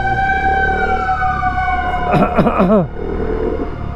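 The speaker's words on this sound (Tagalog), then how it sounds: "Uy, may wangwang." A wailing emergency vehicle siren sweeping up and down, fairly close, with a few rapid yelping bursts over steady traffic rumble in Santa Cruz, Manila.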